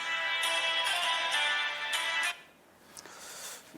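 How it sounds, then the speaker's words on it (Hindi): A mobile phone rings with an incoming call, a bright repeating ringtone melody pulsing loudly for about two seconds, then fading into a fainter continuation with no talk over it. "अरे ये फोन ही आ रहा है"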